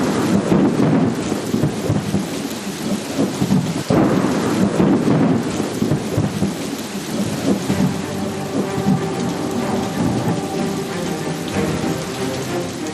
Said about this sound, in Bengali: প্রবল দুর্যোগ, ঝড় বৃষ্টি,